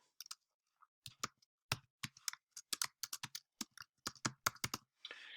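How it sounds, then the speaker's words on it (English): Someone types an email address on a computer keyboard in a quiet room, with a quick, irregular run of crisp key clicks in short bursts, ending in a softer brushing sound. "So you type in their email address right here."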